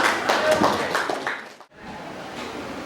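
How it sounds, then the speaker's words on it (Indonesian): A classroom group claps for a presenting group at a school lesson, giving a short burst of applause that stops after about a second and a half, followed by quiet room tone. "jadi aplaus dulu untuk kelompok 3"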